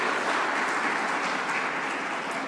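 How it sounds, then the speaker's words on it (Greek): Audience at a workplace wellbeing forum applauding warmly, a dense, steady wash of clapping hands filling the whole stretch without pause. "Ένα θερμό χειροκρότημα για όλες σας"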